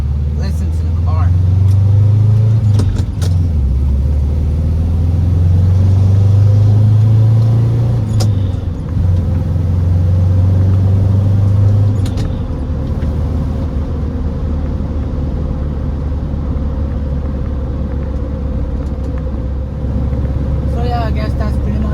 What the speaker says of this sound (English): I'll shut up now so you can listen to the car.